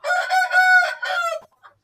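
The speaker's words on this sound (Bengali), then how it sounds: "এই যে দেখেন খুব সুন্দর মোরগ দেখতে পাচ্ছেন, এবং মুরগি" A rooster on a poultry farm of Sarail breed fowl lets out one loud, close crow in several drawn-out pulses, followed by a faint cluck.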